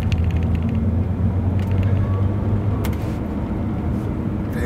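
Tuned BMW E90 335i xDrive with N54 engine on a test drive, a steady low road and engine drone heard from inside the cabin, with occasional light creaks and rattles.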